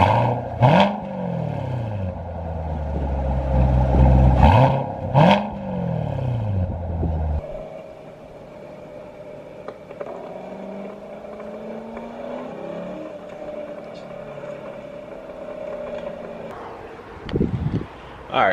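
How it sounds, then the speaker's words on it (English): A car engine revs with its exhaust flaps held open, giving two sharp rising blips up front, then a lower running hum with light clatter and a brief final rev. "So I'm gonna go ahead and give you all a little rev action."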